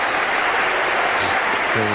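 At an Ashes Test in Australia, a cricket stadium crowd roars steadily behind England's bowler, a dense, loud wash of cheering noise, with a commentator's voice coming in near the end.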